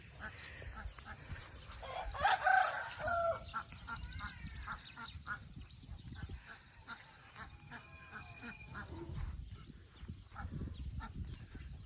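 Farm fowl, including chickens, call among the rice fields of rural Laos in the early morning. The clucks and honks are brief and fairly distant, with a louder burst near the start over quiet open-air ambience.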